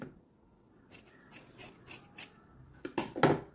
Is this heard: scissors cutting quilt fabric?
yes